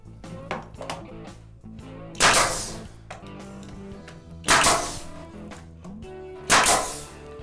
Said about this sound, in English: So we want to watch that as we nail the door off.